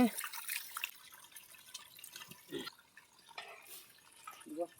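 Tubers washed by hand in water, with faint drips, splashes and sloshing in a quiet, close setting, and no talk.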